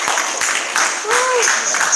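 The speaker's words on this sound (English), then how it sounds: "So give Vi a round of applause." At a Harlem arts alliance town hall, the audience applauds an honoree: a brief burst of scattered clapping from a crowd, with voices and a short cheer or whoop mixed in.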